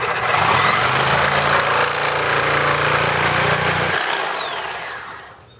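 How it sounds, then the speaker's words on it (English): A saw cuts through a garden rake handle just above the dirt line, giving a loud, steady mechanical whine with a low hum for about four seconds before it winds down and fades out. "I'm going to cut right above where the dirt line is. Okay, so use whatever saw you want to use. Hacksaw is fine."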